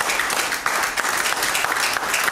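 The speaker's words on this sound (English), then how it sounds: "Give the Lord a hand clap." Church congregation clapping their hands in praise, a dense, continuous burst of applause from many people close by, steady throughout.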